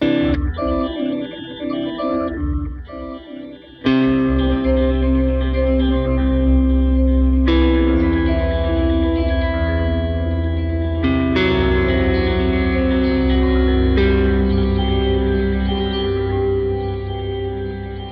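Sustained guitar chords through the Eventide H90's Swell Shifter effect swell in slowly and bloom with shimmering, pitch-shifted layers and heavy ambient wash, each new chord rising in over the last.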